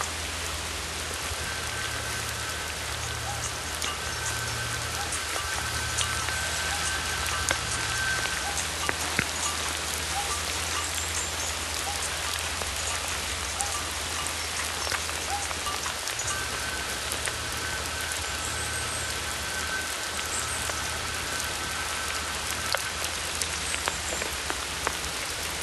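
Steady rain falling outdoors in woodland, a dense continuous patter on surfaces at even loudness throughout, with a faint low hum in the background and no talking.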